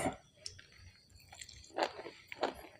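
Close, quiet chewing of a Thai-style meal of mashed mushroom soup with boiled egg, blanched vegetables and sticky rice, with a few soft wet bites and crunches spread over a few seconds and no talking.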